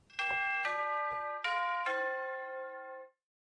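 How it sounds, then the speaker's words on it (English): A doorbell chime from the video game Clair Obscur sounds as four bright, bell-like tones struck in quick succession. The last tone rings out and fades cleanly into silence. "A fourth is the doorbell sound."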